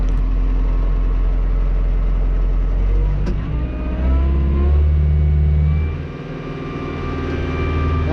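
A cab tractor's engine idles, then revs up toward normal operating RPM, a loud, close, steady drone that swells and shifts partway through before settling at a higher, even note, with no talking.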